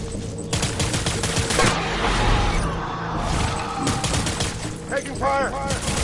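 Sustained automatic gunfire in the video game Death Stranding, heavy overlapping bursts filling the whole stretch under steady rain-like noise, with brief shouted voices near the end.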